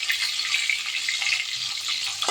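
Pieces of parshe fish frying in oil in a home kitchen pan give off a steady, close hiss and crackle that runs without a break, with no talking over it.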